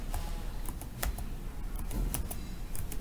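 Quick bursts of typing on a computer keyboard, sharp clicks arriving in uneven clusters, close and fairly quiet with no talk.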